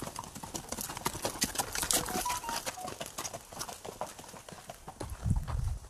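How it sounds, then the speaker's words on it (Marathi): Horses walking a trail carrying tourists at Matheran, their hooves clip-clopping in an irregular rhythm at moderate distance, with a louder thud near the end and no speech. "घोडे कशा पद्धतीने जात आहेत."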